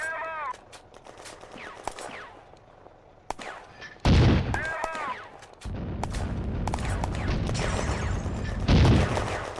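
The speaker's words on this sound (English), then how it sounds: "French guns boom out." French artillery guns and German mortar rounds in a 1940 battle at Bléneau railway station, a series of sharp booming reports and heavy blasts with rumbling decay, some close and loud, some more distant, over a tense musical background.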